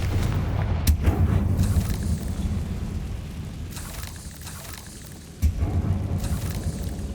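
Confringo blasting spell from Hogwarts Legacy sets off loud low booms, one sharp blast near the start and another around five seconds in, over a rumbling explosive wash that fades between them.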